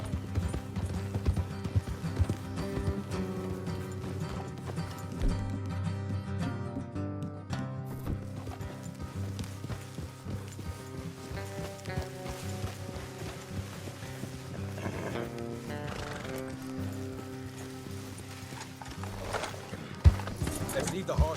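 Galloping horses in a Western-style video game pound out a fast continuous hoof rhythm under steady music and spoken game dialogue, the beats blending into a dense, even background.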